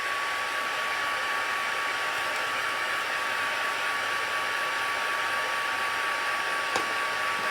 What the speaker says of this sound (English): I'm going to give it a little blast with my heat tool just because